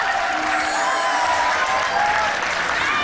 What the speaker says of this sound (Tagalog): marami pong salamat sa palakpak